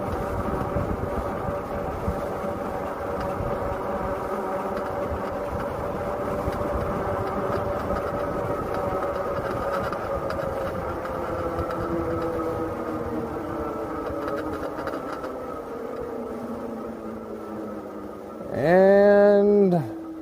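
Aipas M2 Pro Xterain e-bike motor pulling uphill on throttle alone, a steady electric whine that slowly drops in pitch under continuous wind rush, ending in a brief louder tonal burst.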